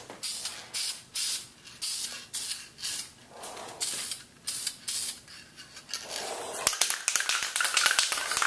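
An aerosol can sprays a light first coat of paint onto parts of a 2004 Harley-Davidson Dyna Custom motorcycle. Short, close hissing bursts repeat in an even rhythm, then become busier, with faint rattles and clicks near the end.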